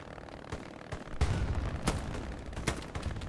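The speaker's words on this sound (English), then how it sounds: "Ah, beautiful shotguns, Oscar." Shotgun fire during a multiplayer battle on the Utah Beach map of a war video game, a string of sharp shots and booms at irregular intervals, some nearby and some distant, over continuous battle noise.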